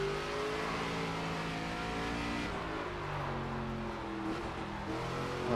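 Race car lapping the Lime Rock Park road course in qualifying, engine loud and continuous with steady revving and shifting pitch through corners, no voices.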